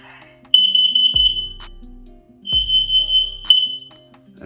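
A combined smoke and carbon monoxide detector sounds loudly during a self-test in a house. It gives two bursts of shrill electronic beeping, each with a low thump, and ends with fainter chirps.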